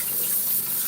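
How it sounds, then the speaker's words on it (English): Tap water runs steadily over a rice cooker lid being rinsed in a sink, a continuous close hiss and splash with no pauses and no talking. "So I'm going to rinse this lid off"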